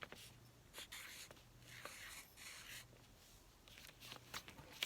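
A word being written down by hand, heard as soft, close scratchy strokes of a pen or pencil on paper in short, uneven bursts, faint and with no talking.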